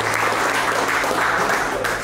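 A football team celebrates a matchday home win with a dense burst of applause. Many hands clap steadily and loudly throughout, close and sustained.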